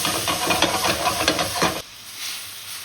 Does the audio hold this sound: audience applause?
no